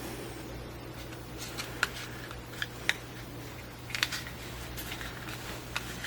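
Tarot cards are shuffled up close, with soft sliding and a few crisp, sharp snaps as they riffle.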